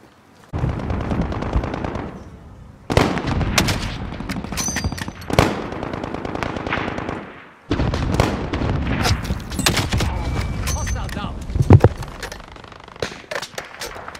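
Rapid automatic gunfire in a Modern Warfare-style video game, loud near bursts and rattling volleys with sharp single cracks, briefly pausing before resuming.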